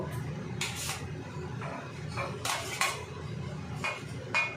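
Potatoes tipped into two pans of cooking mutton, with clattering metal pot and utensil clinks in several sharp bursts over a steady background sizzle.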